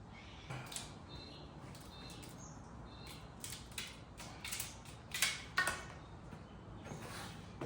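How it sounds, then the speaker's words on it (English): AN line cutters snip through braided fuel line wrapped in masking tape, giving a few short, close mechanical creaks and clicks, with two sharper cuts near the end against quiet room noise. "My trusty AN line cutters. And we just snip it."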